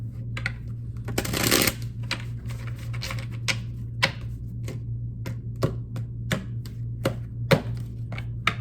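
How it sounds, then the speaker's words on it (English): Tarot cards being shuffled by hand, a brief riffle followed by a series of sharp, separate taps and flicks of the deck at close range over a faint steady hum. "One more shuffle"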